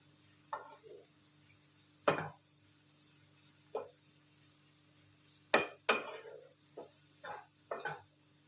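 Maggi masala stirred into boiled vegetables in a pan, with a handful of sharp spoon scrapes and clinks against the metal spaced irregularly over a faint background hum.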